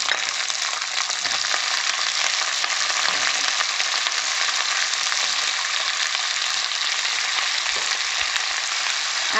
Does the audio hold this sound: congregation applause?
no